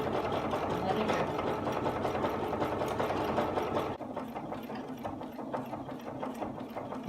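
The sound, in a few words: sewing machine automatically sewing a buttonhole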